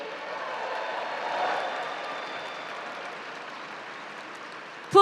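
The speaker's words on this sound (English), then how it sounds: "Let's give another warm applause to Lucy." Faint, distant applause from a university winter commencement crowd after the national anthem, a soft wash of clapping that swells briefly then holds low before a sudden louder sound at the end.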